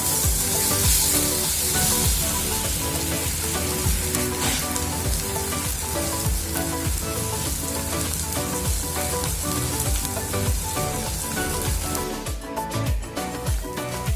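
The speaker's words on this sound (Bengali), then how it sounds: "একটু কিছুক্ষণ ভেজে নেব।" Beef brain with onion frying in a pan, a steady close sizzle with crackling pops that runs throughout and fades slightly near the end.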